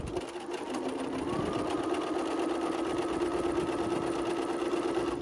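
A sewing machine runs steadily, stitching two fabric pieces together after reversing to the start of a seam. The close, continuous motor whir shifts pitch slightly early on and then holds even to the end.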